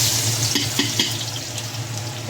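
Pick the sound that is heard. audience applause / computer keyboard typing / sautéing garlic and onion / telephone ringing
sautéing garlic and onion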